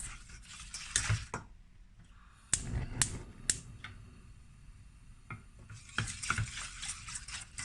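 Vanilla pudding mixture being stirred and cooked in a pot on the stove, with close scraping strokes and clinks of a utensil against the pot over a soft bubbling hiss.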